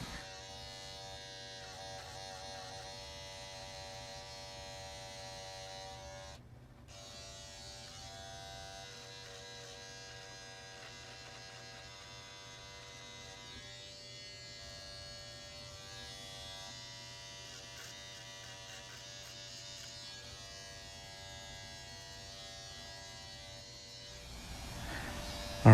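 Electric clippers buzz steadily and close up while trimming a mustache during a self-administered bald fade haircut, a continuous even drone with a brief dip mid-way and a louder surge at the end.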